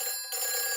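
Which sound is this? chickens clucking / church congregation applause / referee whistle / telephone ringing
telephone ringing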